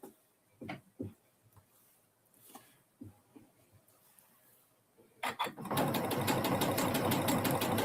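A sewing machine stitches a final seam on cotton fabric, starting after a few light handling knocks and then running as a steady, dense mechanical whir close by for the last few seconds.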